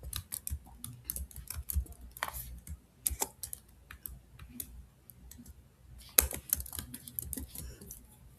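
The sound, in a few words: typing a channel name on a computer keyboard in Excel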